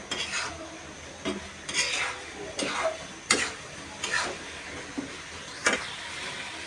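Vegetable noodles stirred in a frying pan: a spatula scrapes and knocks against the pan in irregular strokes over a soft, steady sizzle, close by with no voices.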